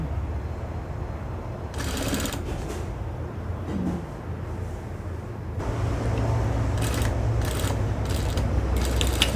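A domestic sewing machine stitches a single fabric binding strip about 1 cm wide, a steady loud mechanical whir and rattle that runs throughout and grows busier in the second half, with no talk.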